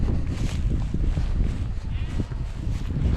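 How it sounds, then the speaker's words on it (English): Sheep on a farm bleating close by, several overlapping calls over a rough, busy background. "Oh, sheep."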